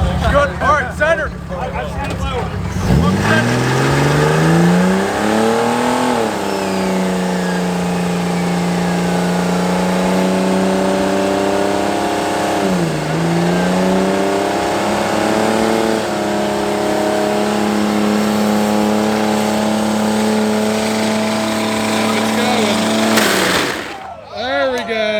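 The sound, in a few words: car doing burnouts, engine revving after car show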